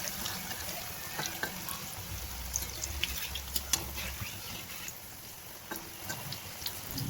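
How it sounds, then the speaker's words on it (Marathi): Potato vadis (aloo vadi) frying in hot oil in a pan give a steady dense crackle and hiss throughout, with scattered small pops and a faint clatter, no one talking. "तव्यामध्ये तेल गरम केले आणि त्याच्यामध्ये 1 बाय 1 अशा वड्या सोडून त्या व्यवस्थित खरपूस होईपर्यंत छान अशा आलटून पलटून तळून घ्यायच्या आहेत"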